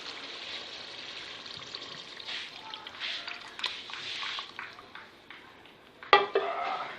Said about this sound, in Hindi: अब इसमें वो पानी डालेंगे जिसमें मैंने चने उबाले थे